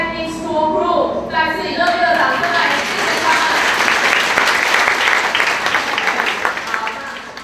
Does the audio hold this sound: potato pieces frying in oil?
no